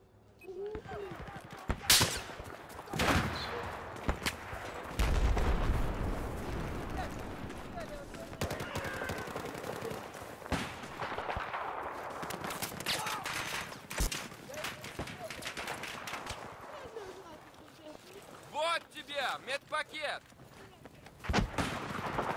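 Gunfire in The Darkness video game, bursts of shots and booms scattered through the stretch, mixed under ongoing chatter and laughter from players talking.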